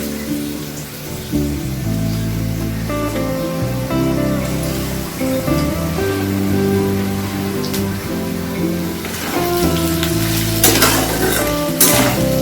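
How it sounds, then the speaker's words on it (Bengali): Chopped garlic and onion fry in hot oil in a pan for Bengali egg curry. A loud, continuous sizzle fills the whole stretch, with stirring scrapes and crackles rising near the end. "রসুনটাও খুব ভালো করে ভাজা ভাজা করে নিতে হবে পেঁয়াজের সঙ্গে।"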